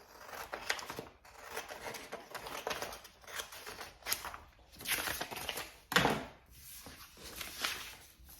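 Scissors snip through a paper template for a bunny rabbit head in a series of quiet, irregular cuts and rustles, close by and soft, with no talking.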